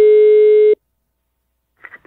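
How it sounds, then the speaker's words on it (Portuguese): Telephone busy signal after a dropped call: one loud, steady electronic tone sounds for under a second and cuts off into silence, then faint voices speak briefly. "A ligação caiu"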